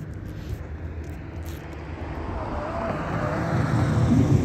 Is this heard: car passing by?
yes